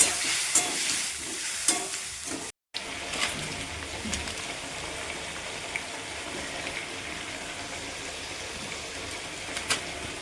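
Pointed gourd and potato fry in a pan with a little spice-rinse water and very little oil, a constant bubbling hiss with occasional stirring scrapes.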